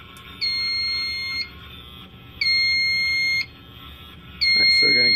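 A Fire-Lite MS-5UD fire alarm panel sounds its trouble buzzer in three steady electronic tones, each about a second long with short gaps between, clear and close.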